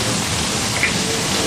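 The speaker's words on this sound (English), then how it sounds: "we make the rain with special sprinklers that spray the rain upward and outward" Artificial rain from special sprinklers that spray water upward and outward at Universal Studios makes a steady, loud, dense hiss of falling drops with no breaks.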